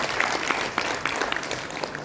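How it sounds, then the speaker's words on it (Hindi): Audience applause at a retirement ceremony for an institute employee, a steady dense patter of many hands clapping in a hall, moderately loud and continuous with no voices over it. "मैं चाहूंगा जोरदार तालियां श्री अशोक कुमार जी के लिए।"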